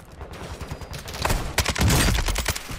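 Bursts of gunfire in the Call of Duty DMZ game, rapid overlapping shots that build from scattered pops into a loud, dense volley toward the end.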